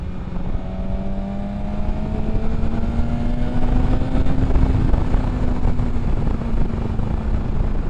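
A 2021 BMW M1000RR superbike's engine pulls hard under acceleration, a steady rising drone with a climbing tone throughout, loud against constant wind rush and no talking.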